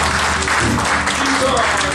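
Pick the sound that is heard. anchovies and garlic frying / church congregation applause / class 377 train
church congregation applause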